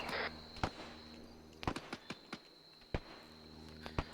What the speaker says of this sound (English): we have shots west